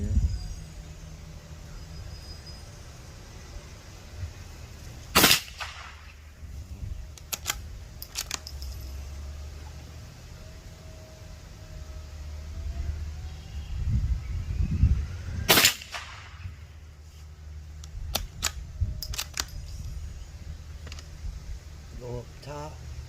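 A Ruger American .22LR rifle fires at small targets: two sharp, distinct cracks about ten seconds apart, with lighter clicks and handling noise between them and a person talking over a low outdoor background.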